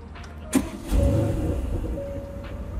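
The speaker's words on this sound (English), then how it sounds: "To do that, you need to start the car." Aston Martin DB11 Convertible engine starting: a brief starter click, then the engine catches with a low rumble that settles into a steady idle.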